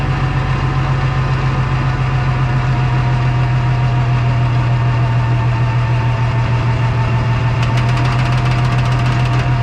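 An Oliver 1600 FWA tractor engine idles steadily with a constant deep hum and faint rattling knock, continuous and close by.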